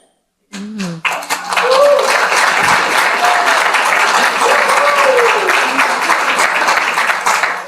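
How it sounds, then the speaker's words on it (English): An audience claps at a channeling talk, starting after a short pause and swelling into a dense, sustained round of applause, fairly loud and close, with a few faint voices and whistles under it. "Not sure what you're clapping for"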